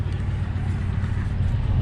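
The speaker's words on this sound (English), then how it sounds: "Oh, my truck idled down finally." A manual truck's engine idles steadily and close by, a low, even rumble held throughout with some wind buffeting on the microphone.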